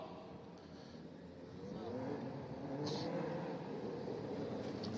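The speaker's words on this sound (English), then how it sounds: "So the car's going right out onto the racetrack now." Race cars with engines rumbling and building as they pull out onto an indoor dirt track at an arena in Allentown, Pennsylvania, heard under a commentator talking, the engine noise rising midway.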